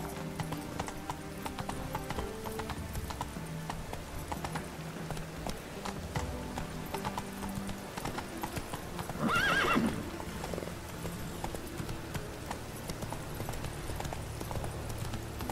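A horse in The Witcher 3 gallops with steady hoofbeats beneath game music, with a brief louder whinny or snort midway, moderately loud and continuous.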